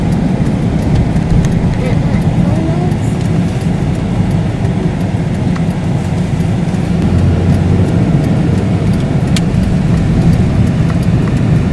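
A car rolls slowly into a parking lot at night in Las Vegas, heard from inside the cabin as a steady low engine and road rumble with faint voices.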